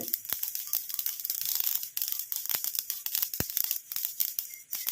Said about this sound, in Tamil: இப்போ பாருங்கள் கடுகு நல்லா பொரிஞ்சிருச்சு